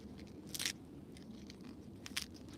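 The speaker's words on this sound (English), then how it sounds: "You hear how crunchy those leaves are?" Collard leaves crunch and snap as they are stripped, two sharp crisp bursts over a quiet background.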